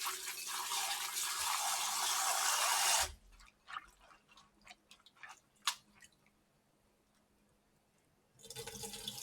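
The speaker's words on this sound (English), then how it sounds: "I want to rinse off your sorrel" Sorrel rinsed under running water: a few seconds of steady splashing tap flow, then a pause of wet drips and squishes as the leaves are handled, before the water rushes again at the end.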